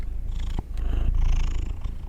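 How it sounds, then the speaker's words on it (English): A cat lying in the sun purrs close to the microphone, a continuous low rhythmic rumble lasting about two seconds, with a short break early on. "I want to see if you can hear her purr in this mic."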